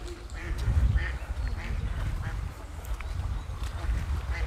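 A duck quacks in short bursts near a riverside recreation area in Grodno, set against steady rushing water and low outdoor noise.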